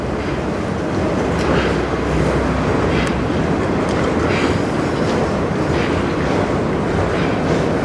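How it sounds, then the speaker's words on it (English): A CN freight train rolls past at night in Sarnia, Ontario, a loud, continuous roar of wheels and rail rumble with faint clicks and high squeals throughout, close and unbroken. "This is definitely going to be a 10-minute train"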